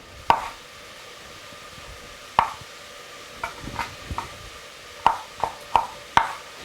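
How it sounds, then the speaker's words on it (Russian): A knife chops garlic coarsely on a board, giving sharp, fairly close thuds that come one at a time with uneven gaps, two singles and then a quicker cluster of four, while frying sizzles quietly underneath. "Пока у нас обжаривается, приготовлю чеснок. Так вот крупно его порублю."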